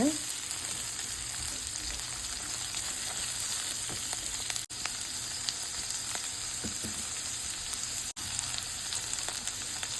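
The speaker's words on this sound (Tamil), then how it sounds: "ஸோ நீங்கள் நல்லா வதக்கி விடுங்க." Ridge gourd and dal sautéing in a pan with oil, a dense continuous sizzle with faint stirring clicks throughout, close and steady.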